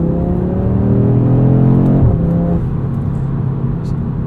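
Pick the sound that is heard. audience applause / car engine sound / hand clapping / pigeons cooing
car engine sound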